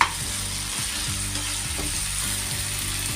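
Mutton curry frying in a pan, a continuous close sizzle with rhythmic scraping strokes of a spoon stirring the meat, repeated roughly every half second, no voices.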